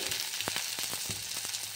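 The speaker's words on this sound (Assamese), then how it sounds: "এতিয়া মই ইয়াতে এড কৰিম এটা কুটি লোৱা বিলাহী।" Chopped tomato sizzles in an iron wok, a constant bright frying hiss broken by several sharp stirring scrapes.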